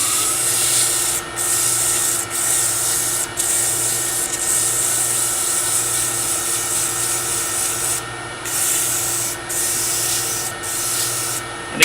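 Steady close-up rubbing of 180 grit sandpaper against a small turned wooden nesting box on a lathe, a continuous hiss with brief periodic dips roughly every second, no talking.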